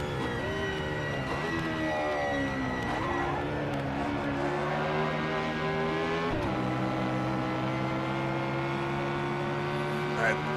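A Porsche 910 race car engine in the Assetto Corsa racing game, loud and continuous, its pitch climbing through the gears with a sharp drop at a shift, close and steady with speech partly over it.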